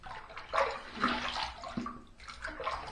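Water runs and splashes in short uneven bursts as a shaving brush is rinsed at a sink, close and fairly soft.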